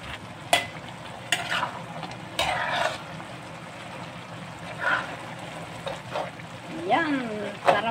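A kilo of bihon rice noodles with cabbage being stir-fried in a pan: a steady low sizzle broken by scraping strokes of a utensil, with a faint voice near the end.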